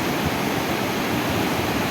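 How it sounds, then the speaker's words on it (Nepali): The Madi River in Rolpa, swollen by monsoon floodwater, roars with a steady, dense rush, loud and unbroken with no voices. "हाम्रो रोल्पाको चिर परिचित माडी खोला"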